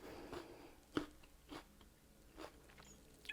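A piece of raw turmeric root is bitten and chewed up close, giving a few distinct crunchy bites followed by quieter, rhythmic mastication with no talking.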